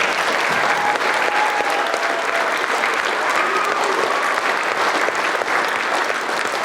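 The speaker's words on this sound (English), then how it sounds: "would you give them a big round of applause?" A school auditorium audience applauds the school staff at a middle school drama event, sustained, dense clapping from a large crowd that holds steady throughout without pause.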